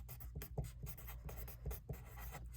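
Writing out a math problem on a board, a faint scratching stroke sound with soft taps and pauses, close and quiet, with no voices.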